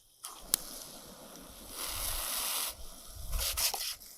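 A garden hose spray gun on its shower setting hisses out a soft, steady wash of water that swells and falls, with a sharp click at the start; fairly quiet, no talking.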